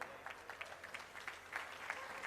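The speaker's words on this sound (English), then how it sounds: "And a big round of applause for our judge, Jill Simpson." Crowd applause fills the gundog group ring at the Blackpool Championship Dog Show for the judge. Scattered, distinct claps sit over a steady clapping wash at a moderate distance.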